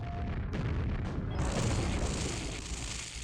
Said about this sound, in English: The grenade bounced up the ramp.